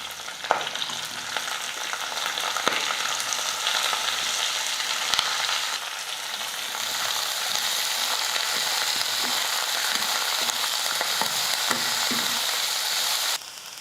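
Ridge gourd peel sautéed in a pan with coconut and curry leaves, a steady hissing sizzle running throughout with scattered scraping strokes of a spatula against the pan.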